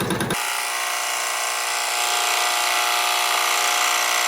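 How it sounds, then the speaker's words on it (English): An embroidery machine hums and buzzes continuously up close as it stitches a love hearts coaster design, with a dense, steady mechanical whirr after a brief rattling start. "So now it should stitch it all to the back"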